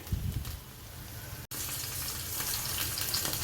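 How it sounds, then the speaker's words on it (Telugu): Onion pieces fry in a pan with a steady, close sizzle that breaks off briefly partway through and then resumes, with no voices. "ఉల్లిపాయ ముక్కలు ఇలా బాగా వేగిన తర్వాత"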